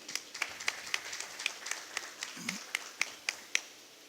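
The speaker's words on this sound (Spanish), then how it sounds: "El aplauso de ustedes, Ivana." Sparse, quiet clapping from a small audience welcoming a speaker at a philately lecture, individual claps spaced irregularly with a faint low murmur midway.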